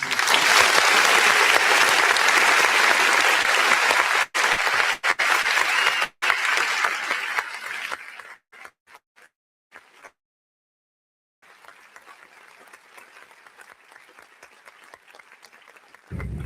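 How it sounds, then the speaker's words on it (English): A church audience gives itself a round of applause, dense steady clapping for about eight seconds that breaks off, leaving a few scattered claps and then quieter room noise. "Now go ahead and give yourselves a round of applause."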